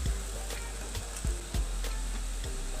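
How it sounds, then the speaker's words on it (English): Ground beef and tomato being stirred together in a pan with mixed herbs, a steady low sizzle broken by a few soft scraping knocks of the utensil against the pan. "So you mix that in with the beef."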